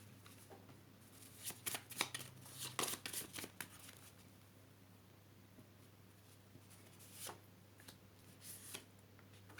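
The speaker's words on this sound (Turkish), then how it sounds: "Şimdi şöyle bir de iskambil destemizden seçelim." A deck of playing cards is shuffled during a Turkish tea-leaf and tarot reading, giving several quick riffling bursts in the first few seconds and a couple more later, close and fairly quiet over a steady low hum.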